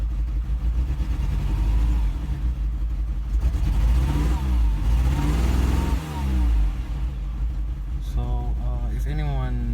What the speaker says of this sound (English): if you hear the idle of the car, it sounds like it's